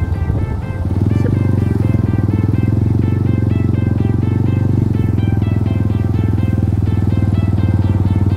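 A custom Harley-Davidson Sportster motorcycle on a test ride, its engine starting up and then running in a loud, steady, close rumble that holds throughout.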